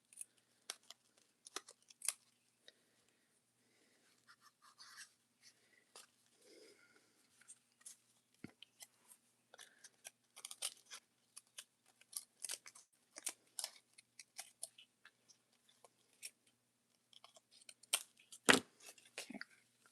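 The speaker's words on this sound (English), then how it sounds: "I have to trim the lace down a little bit because it's sticking out." Scissors snip lace trim on a handmade craft dress, a sparse series of small, sharp clicks and cuts in irregular bursts over near-silence, close and quiet.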